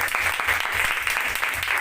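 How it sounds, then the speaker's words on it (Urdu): A church congregation, children included, claps loudly for Jesus, with a dense, steady burst of many hands filling the room and continuing without pause. "زوردار تالیاں آج جو بچے بھی کلاپ کریں گے"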